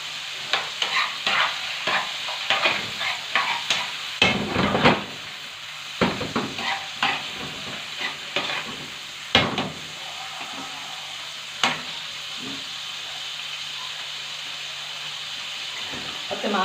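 Chicken gizzards frying in a pan while being stirred, a busy run of spoon scrapes and clatter over a continuous sizzle, with a few pauses and occasional louder knocks.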